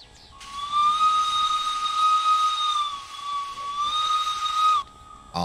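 A steam locomotive whistle from the game Derail Valley sounds one long, loud, steady blast of about four and a half seconds, with a slight dip midway, a faint hiss beneath it and a brief tail at the end.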